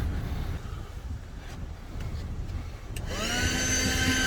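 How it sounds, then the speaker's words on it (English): Vacuum cleaner running while cleaning out a car interior, a steady broadband whir that swells louder toward the end as the motor's whine rises, with no talk over it. "So let's turn on the vacuum."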